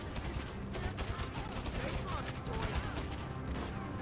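Gunfire in Grand Theft Auto V during a shootout with police, dense rapid bursts of shots over a busy game soundtrack, loud and continuous, with a voice talking underneath.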